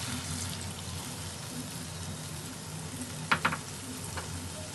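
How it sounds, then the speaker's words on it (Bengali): Coconut milk poured into a prawn curry frying in a pan, with a steady close sizzle throughout and a few brief splashy ticks near the end. "এবার দিয়ে দিব নারিকেলের দুধ"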